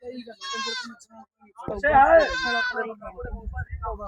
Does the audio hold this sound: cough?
no